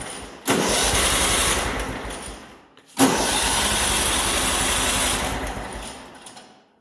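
A John Deere STX38 lawn tractor engine cranks and catches, runs loud and steady, cuts out briefly, then starts again and keeps running close by, alone with no talk.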